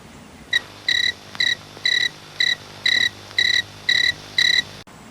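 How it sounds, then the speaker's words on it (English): An American ground cricket plays back as a recording: nine loud, evenly spaced chirp bursts, each a short buzzy trill, separated by brief quiet gaps. "That was an American ground cricket and what it sounds like."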